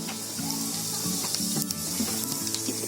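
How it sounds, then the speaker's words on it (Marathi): Cumin seeds hit hot oil in a pan while cooking a paneer curry, giving a steady close sizzle and crackle over a low hum, with a few small clinks throughout. "तेल टाकलंय, थोडासा जिरा टाकते."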